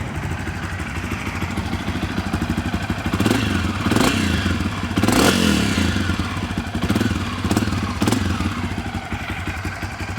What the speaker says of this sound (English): This bike's fuel injected, starts right up.